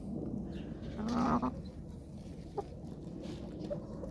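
Blue-breed hens housed in separate coops on a farm cluck softly, with one sharper squawk rising briefly over a steady barnyard murmur and a few scattered calls later on.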